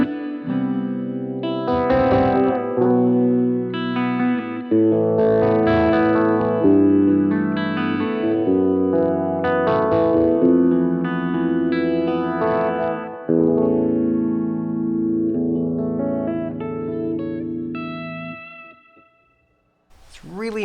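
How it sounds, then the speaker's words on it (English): Electric guitar through a Max Pedals Phaser Beam phaser pedal with the rate turned up for a phase 90 style sweep, chords and riffs playing continuously and loudly with a chewy, swirling modulation, ending in a brief pause and a final note. "I'm just gonna speed up the rate a little bit there, and that should give us this phase 90 sound."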